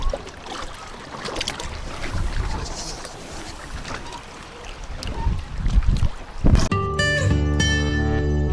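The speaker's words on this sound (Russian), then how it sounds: "Поднялся ветер, волна." Wind buffeting and choppy waves on the Vyatka river during a raft trip, gusty rumbles and splashes against the raft, ending with a sudden loud tonal sound.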